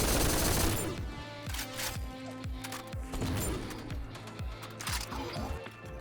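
Rapid automatic gunfire from a randomized weapon in the shooter GTTOD: Get To The Orange Door, a steady stream of loud repeated shots over a dense, busy game soundscape.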